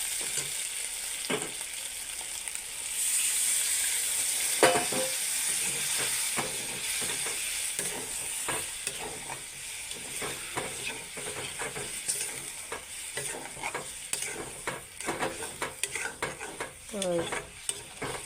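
Eggplant and pumpkin frying in a pan for a Bengali begun jhal, with steady sizzling and repeated scraping, stirring strokes of a utensil throughout, close and fairly loud, with no talking.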